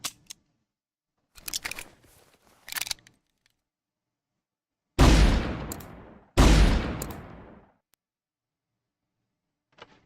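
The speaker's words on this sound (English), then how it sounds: "the sound effect of this pistol may seem familiar to you" Pistol shots in the video game Dangerous Connections, two loud booming reports with decaying tails after a few softer mechanical clicks and rattles, separated by silence.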